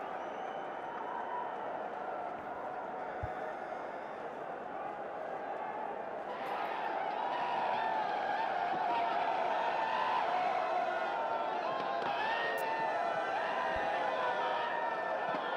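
Stadium crowd at a night PSL cricket match between Peshawar Zalmi and Multan Sultans, a steady broad roar that swells louder midway, heard under a commentator's voice.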